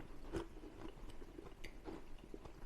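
Close crunchy bites and chewing of warm air-fried Pop-Tarts cooked at 200 degrees, a few distinct crunches followed by steady mastication with no talking.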